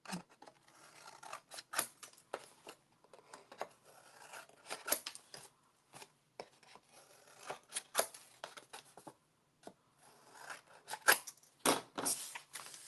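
Scissors trimming chipboard and paper for a holiday mini album, a series of close, crisp snips in irregular bursts with short pauses between cuts, no talking.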